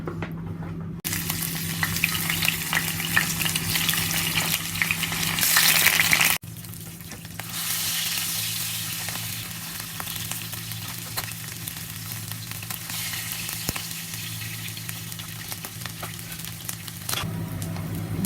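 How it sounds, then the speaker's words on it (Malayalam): Shark pieces frying in coconut oil in a pan, a continuous close crackling sizzle with a few louder bursts and occasional stirring, no voices over it. "ആദ്യം നമുക്ക് ഈ സ്രാവിനെ ഒന്ന് ഫ്രൈ ചെയ്തെടുക്കാം"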